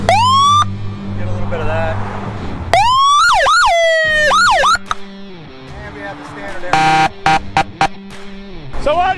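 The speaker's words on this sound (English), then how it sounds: "I can push it in, or I can flip it left or right for the different type of siren" Loud, close police siren on a Harley-Davidson Road King motorcycle cycling through several wail and yelp patterns, switching abruptly between tones, with a brief spoken comment early on.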